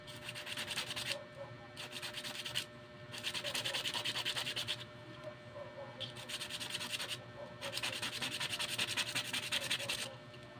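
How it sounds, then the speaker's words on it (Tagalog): Steady rhythmic rasping of worn sandpaper rubbed back and forth on a handmade casting lure, strokes alternating with brief pauses, close and continuous. "Pero wala nang talas yung liha natin"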